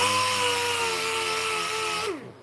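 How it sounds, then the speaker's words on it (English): Power sander running steadily on wooden pieces in a workshop, a loud continuous whine with a steady pitch that winds down as the motor switches off near the end. "I'll give them a little bit of sanding."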